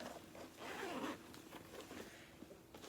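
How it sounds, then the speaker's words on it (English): A zipper runs along a pocket on a Dooney & Bourke giant sack purse, a close, quiet scratchy pull lasting about half a second, then soft handling noises. "You have a zipper pocket here."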